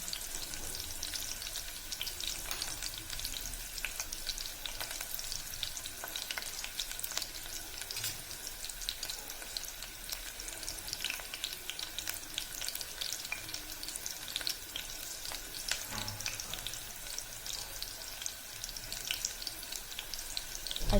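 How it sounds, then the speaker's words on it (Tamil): Sliced big onions fry steadily in oil over a medium flame for tomato rice, giving a continuous close crackling sizzle with faint occasional stirring, no talk. "பெரிய வெங்காயம் நல்லா பொன்னிறமாக வரட்டும்."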